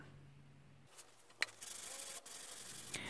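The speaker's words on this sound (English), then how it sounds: "I actually ended up sanding each piece first with a 320 grit sandpaper." 320-grit sandpaper rubs against wood in steady, scratchy strokes after a quiet start, close by and fairly soft.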